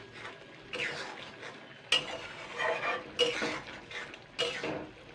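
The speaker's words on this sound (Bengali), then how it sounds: "জাস্ট দুই তিন মিনিট নাড়াচাড়া করে আমি গ্যাসটা বন্ধ করে দেবো" Snails being stirred in a cooking pan on a gas stove, with several clattering scrapes and knocks of a utensil against the pan over a soft sizzle, close and fairly quiet, no talking.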